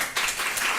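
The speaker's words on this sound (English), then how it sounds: "Give applause to him." A lecture audience gives a short burst of applause for a guest teacher, a quick, bright wash of hand claps lasting under a second, close and moderately loud.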